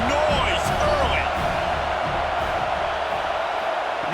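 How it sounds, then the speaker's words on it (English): A stadium crowd roars continuously in a college football video game, Alabama at Auburn, with a loud, dense wash of cheering and a few sharper shouts throughout. "This crowd bringing the energy and noise early."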